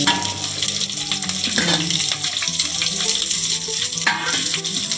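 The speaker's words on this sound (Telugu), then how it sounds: "బిర్యానీ ఉల్లిపాయలు పెట్టాలి" Onions for biryani fry in a pan with a continuous dense, loud sizzle and crackle, broken by a few stirring scrapes, heard close and without talk.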